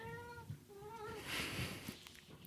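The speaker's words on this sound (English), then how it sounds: "these cats, I wonder if this is being picked up" Pet cats meow in a room, a few drawn-out plaintive cries close by, with faint background noise and no speech over them.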